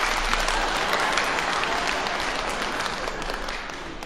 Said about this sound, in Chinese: 我一说我不唱了，你看这鼓掌